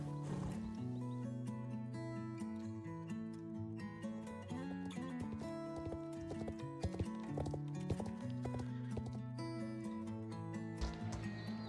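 A bay lesson horse named Royale clip-clops in a steady rhythm during a riding team tryout, the hoofbeats mixed under prominent background music.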